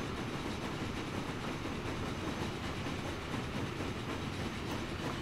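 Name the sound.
train arriving in Train Fever video game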